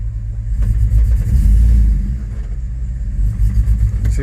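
A 2005 Chevrolet Tahoe 4x4 with a 5.3L V8, which has a stalling fault, revs up loudly and close by: a deep, rumbling surge builds, holds, then eases back to a rough, steady idle.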